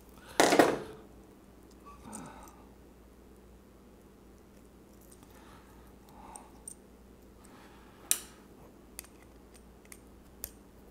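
Electrical wire snipped short with cutters while converting a Delta 36-725 tablesaw to 240V: one loud, sharp cut near the start, then a few faint clicks and light taps in a quiet room without talk.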